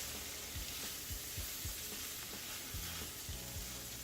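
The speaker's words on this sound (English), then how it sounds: "we're gonna have kernels popping everywhere" Corn kernels with garlic crackle and sizzle in a hot pan, a dense steady fry broken by scattered low pops and thumps, close and unbroken, with no talking.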